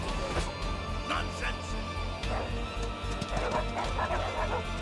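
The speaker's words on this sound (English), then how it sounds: "Oh, look at the cute puppies." Puppies in the video game Like a Dragon: Infinite Wealth give several short yips and bow-wows over steady game music, with a voice talking at times.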